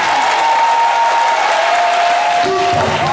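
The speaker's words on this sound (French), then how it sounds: "Oui, je veux entendre tes applaudissements." Dense, steady applause from a church congregation fills the whole stretch at an even, fairly loud level, with a sustained tone running through it and a brief voice near the end.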